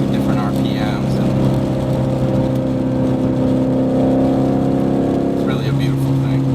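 A Ford Mustang GT V8 runs through a Borla exhaust with a deep, steady rumble that rises in a rev near the end, while someone talks over it.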